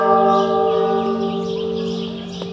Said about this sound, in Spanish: Estas campanadas son las que le están sacando a los muertos.